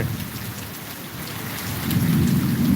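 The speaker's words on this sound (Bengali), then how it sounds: "অনেক জোরে বৃষ্টি করতেছে" Heavy rain pours steadily while deep thunder rumbles, swelling louder toward the end.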